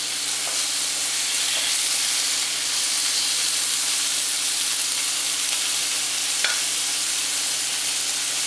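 A stir fry sizzles steadily in a large pan, a loud, continuous frying hiss with a few faint clinks from stirring.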